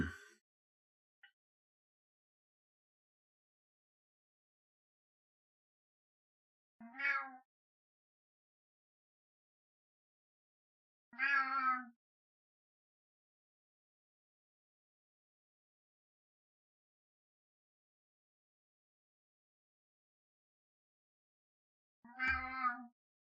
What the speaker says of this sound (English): My cat is having all sorts of health issues, and that is why she's meowing